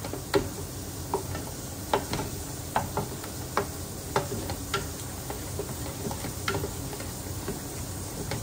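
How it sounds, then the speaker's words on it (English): Flour frying in butter while a spoon stirs it: a soft continuous sizzle under sharp, irregular clicks and scrapes of utensil against pan, close up, with no talking. "Need to fry the flour to cook properly, fry on the butter."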